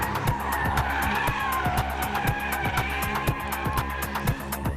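Porsche 911 4S with four-wheel drive sliding sideways, its tires squealing continuously with a rhythmic pulsing under a loud engine drone, heard up close with no talking.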